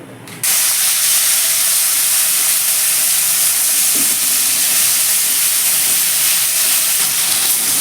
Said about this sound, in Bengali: প্রথমে আমি চিংড়ি মাছটাকে একটু ভেজে নেব।